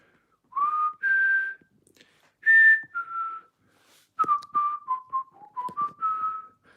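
Someone whistles a short melodic tune, clear and close, with phrases of held and quick notes separated by brief pauses.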